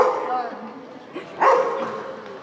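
A big, angry dog barking on a city street in Paris, France, heard as a few sharp barks in the middle of the clip, with people talking over it.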